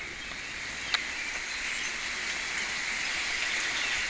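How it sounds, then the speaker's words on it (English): Rain falls steadily and heavily outdoors as a constant hiss, with a single sharp tap near the start and no voices. "the rain's starting to come down harder"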